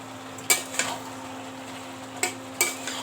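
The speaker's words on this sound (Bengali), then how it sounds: "মাছগুলা দিয়ে এখন মেরে ফিরে কষাই" A spatula stirring fish pieces into already sautéed vegetables in a pan: four or five distinct scraping clinks against the metal in two short pairs, over a soft background hum and faint sizzle.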